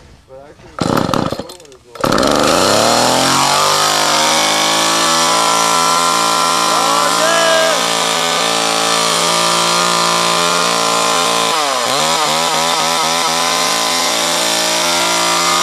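A 1970s chainsaw engine sputters through a couple of rough pulls, then catches and roars at a loud, steady high idle that holds close for the rest of the run, with a brief dip in pitch near the end.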